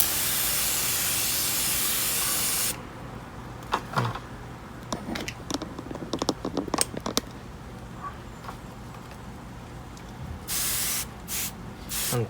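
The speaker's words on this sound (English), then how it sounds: "I usually spray onto stems and see if it's dry" Spray bottle misting water onto Phalaenopsis orchid stems during routine watering: a long steady hiss of spraying, then a stretch of small clicks and handling taps, then several short hissing sprays close by.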